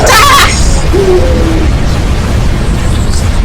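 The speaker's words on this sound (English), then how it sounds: "He's okay, he survived the explosion." A loud blast bursts at the very start of a video game battle, then fades into a lingering low rumble with faint scattered effects.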